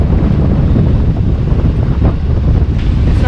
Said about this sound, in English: Yeah, there's like 6-foot waves out here.